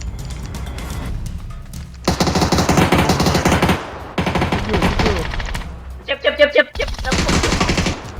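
Bursts of automatic gunfire from PUBG Battlegrounds, loud and close, with rapid fire in several long volleys split by short pauses, plus a brief ringing metallic patch near the end.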